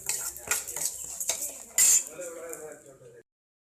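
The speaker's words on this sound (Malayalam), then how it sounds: "ഇനി അത് ചെറിയ രീതിയിലൊന്ന് ബ്രൗണിഷ് കളർ ആവുന്നോടം വരെ ഒന്ന് ഇളക്കി കൊടുക്കണം" A utensil stirring lentils and mustard seeds in a pan, with close metallic scrapes and clinks, one louder clatter in the middle, before the sound cuts to silence.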